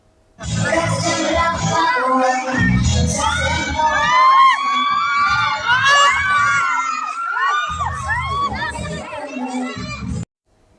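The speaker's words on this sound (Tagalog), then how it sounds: "walang tigil ang sigaw at hiyawan ng kanyang mga supporters" A large crowd of fans screams and cheers nonstop at a theatre show, with high excited shouts and whoops rising over one another, loud and close, before cutting off.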